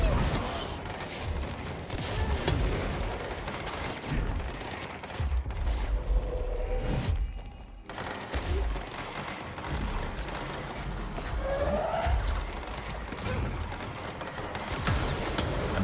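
Heavy video game gunfire rattles in long, overlapping bursts with booming impacts. The barrage dips briefly to near quiet midway, then resumes at full intensity.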